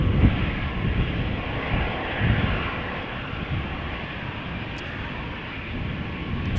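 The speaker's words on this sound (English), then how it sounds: "Two airplanes coming this way." An Embraer 190 and an Airbus A320 depart Amsterdam Schiphol airport with a loud, continuous, close-up jet engine roar that swells and eases slightly but never stops.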